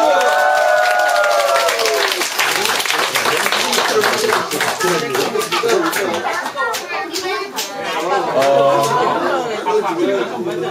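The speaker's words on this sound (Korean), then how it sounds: "박수!" An audience at a kindergarten event opening claps in a lively burst of applause, mixed with crowd chatter and children's voices, and someone speaks over the noise.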